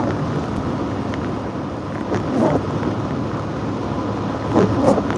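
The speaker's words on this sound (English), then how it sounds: "And it is quite a bit gusty down here though." Gusty wind from Hurricane Beryl in East Texas roars steadily against the microphone, a loud broadband rush with rain mixed in and a couple of stronger gusts swelling near the end.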